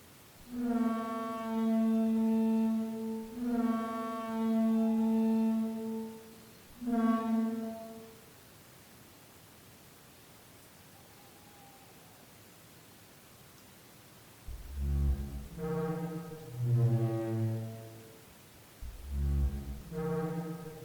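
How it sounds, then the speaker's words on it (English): Reconstructed call of a Parasaurolophus, a crested herbivorous dinosaur: deep, hollow, horn-like hoots with strong harmonics, two long sustained blasts and a short one, then after a quiet gap a cluster of shorter wavering calls, loud and alone. "What if I told you that this belonged to a Parasaurolophus"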